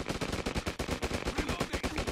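Sustained automatic gunfire in an online multiplayer anti-terrorist shooting game, a steady rapid stream of loud, evenly spaced shots without a pause.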